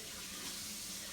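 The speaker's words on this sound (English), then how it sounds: "I'm just trying to rinse this off real quick." Tap water runs in a steady, soft hiss as a Vitamix tamper is rinsed under a faucet, a brief continuous flow at low volume.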